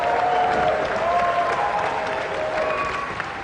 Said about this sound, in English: A round of applause again for Ashley Pass.